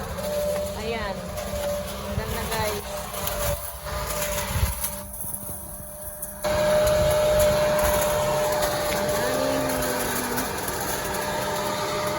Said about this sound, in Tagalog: nag-vacuum ng leaves